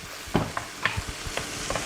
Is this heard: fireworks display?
no